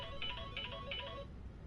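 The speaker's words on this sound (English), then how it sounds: "I should probably silence my phone." A mobile phone ringtone plays during a No Man's Sky gameplay stream: three quick, bright repeating chime bursts, fairly faint, then it cuts off, with no one speaking.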